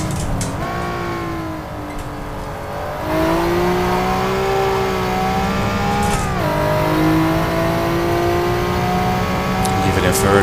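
A Honda NSX engine revs hard on the Suzuka circuit, rising and falling with gear changes up to the red line, loud and close from inside the car, with someone talking over it.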